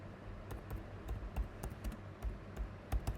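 Quiet computer keyboard typing, with a steady run of soft, close key clicks at an uneven pace over a low background and no talking.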